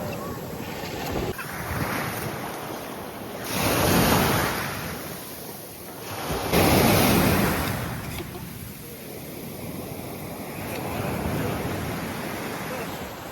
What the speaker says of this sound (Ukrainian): Хвилі сьогодні дуже сильно шумлять.